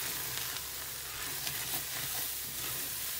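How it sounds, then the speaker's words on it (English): Chicken fajita soup is stirred in a pot on the stove, with a steady low simmering sizzle and soft scraping that runs without pause and stays close and fairly quiet. "Give it a good stir."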